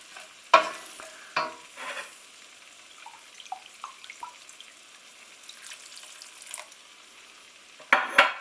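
Gravy for a meat-free chick'n and vegetable pie being stirred in a pan, with faint, scattered scrapes and soft clinks over a quiet simmer, plus a few louder knocks at the start and end.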